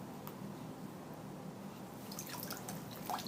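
Water drips from a casting sock soaked in lukewarm water during AFO casting, a few faint wet drips and squishes over a steady low background, close by.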